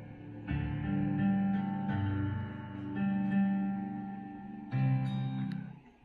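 Music plays through a repaired amplifier on a repair bench, sustained tonal chords with steady harmonics at moderate volume, shifting in phrases with no talk over it.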